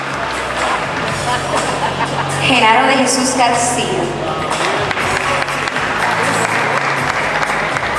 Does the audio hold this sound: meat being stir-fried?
no